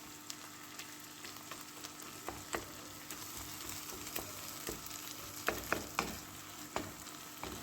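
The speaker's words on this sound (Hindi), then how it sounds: "आप देख सकते हैं अच्छे से हम इसको भूनेंगे।" Beef brain (bheja) fries with masala in a pan, a soft steady sizzle punctuated by frequent sharp scrapes and taps of a spoon breaking and stirring it, quiet and without speech.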